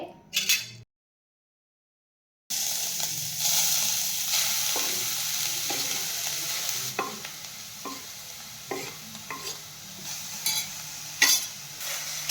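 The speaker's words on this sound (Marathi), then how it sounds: "आता आपल्याला त्यामध्ये किसलेलं गाजर घालून घ्यायचं आहे।" Grated carrot is stir-fried in ghee in a kadai for carrot halwa, a steady sizzle with repeated scraping and clinking of the spatula against the pan, after a brief silent gap near the start.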